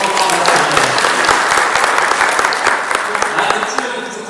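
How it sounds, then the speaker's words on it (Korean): An audience at a dialogue forum of sustainable development council activists with a film director breaks into dense, sustained applause, close and loud, with voices faintly underneath. "이 타이밍에 한번 박수하고"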